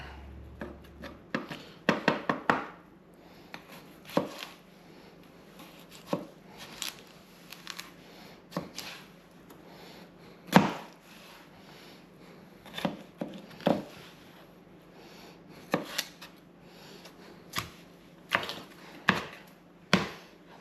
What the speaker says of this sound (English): we're just going to chop that up.